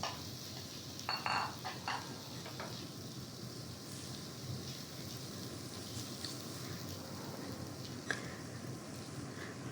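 Washed rice frying in a pot for pulao, a soft steady sizzle running throughout with scattered scraping and clinks of a spoon stirring against the pot, close and moderately quiet, with no talking.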